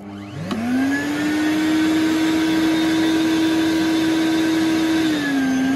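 A dust extractor paired with a Max XT sander switches on by itself, its motor whining up to speed in a second, then holding a steady, loud vacuum-like drone before the pitch starts dropping as it winds down.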